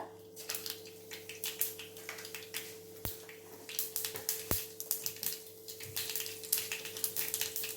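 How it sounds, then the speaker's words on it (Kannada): Mustard seeds crackle and sizzle in hot oil in a pan, the first step of a vegetable vermicelli upma. The popping is dense, steady and close, with a couple of sharper snaps standing out. "ಎಣ್ಣೆ ಬಿಸಿ ಆದಮೇಲೆ ನಾವು ಸಾಸಿವೆನ ಹಾಕ್ಕೋಬೇಕು."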